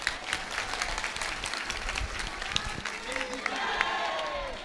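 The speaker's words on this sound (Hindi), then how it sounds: "अब ताली बजाओ।" An audience at a spiritual discourse claps in a loose, uneven patter, with a few louder claps and some crowd noise and speech mixed in.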